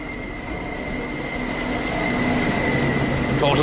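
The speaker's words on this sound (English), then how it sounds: "Look at this lovely train coming in right now. It's a DB Deutsche Bahn." Green and white Deutsche Bahn train rolling into a station, a sustained high wheel squeal over steady rumbling rail noise that grows slightly louder as it nears.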